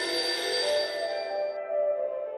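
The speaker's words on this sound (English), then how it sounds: "The telephone keeps ringing and ringing and ringing." A telephone bell rings in a bright, sustained burst that fades toward the end, clear and close with no talk over it.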